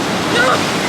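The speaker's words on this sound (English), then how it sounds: "Look at these waves, y'all." Ocean waves wash loudly against a pier, a dense continuous roar of surf and spray filling the short moment with no clear voice over it.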